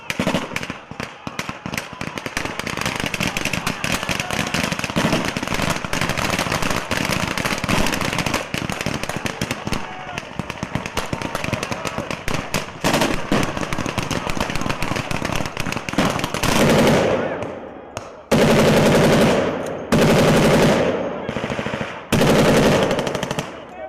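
Australian troops fire weapons in a combat exercise, with dense sustained automatic gunfire that runs continuously and loud, then breaks into a few separate heavy bursts near the end, with no clear talk.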